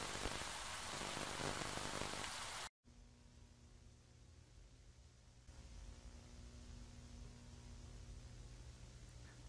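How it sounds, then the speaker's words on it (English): Steady rain hissing loudly outdoors at 5 a.m., cutting off abruptly, then returning as a quieter, duller patter with a low hum under it. "It's raining too."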